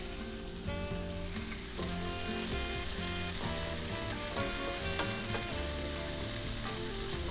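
Garlic sizzles and fries steadily in a hot pan, a dense continuous crackle with occasional stirring clinks, loud and close with no talking.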